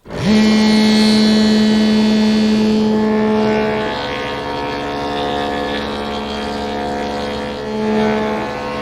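Woodworking cutter head fitted on a saw with a rabbeting fence, cutting a rabbet while building a hall table, heard as a loud steady motor whine with a humming tone that settles lower as the cut begins.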